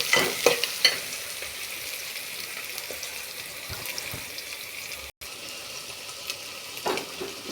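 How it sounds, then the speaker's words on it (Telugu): Chopped tomatoes fry in a pan and get stirred, a soft continuous sizzle broken by occasional spoon scrapes and taps, close and fairly quiet, with no talking. "టమాటాలు వేసి కలుపుతున్నాను"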